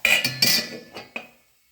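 A metal lid set onto a cooking pot over hot embers, giving a few sharp clinks and clatters in quick succession at close range, then settling into quiet.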